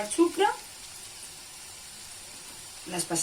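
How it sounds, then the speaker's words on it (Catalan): Lent fritters (bunyols de Quaresma) fry in hot oil with a faint, steady hiss, while a voice speaks briefly at the start and again at the end. "es van obrint, fins que estiguin ben fregidetes"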